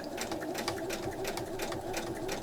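Sewing machine stitching along the edge of fabric for a beginner's coin purse, a steady close motor whir with rapid needle clatter running continuously, no talking.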